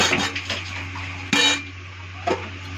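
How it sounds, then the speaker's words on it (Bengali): Chopped onion and tomato tip into a pan already holding meat, bringing a few metallic clanks and scrapes of a utensil against the cookware over a low hum, with one sharp louder clatter midway. "এখন আমি এর মধ্যে পেঁয়াজ টমেটোটা ঢেলে দিচ্ছি"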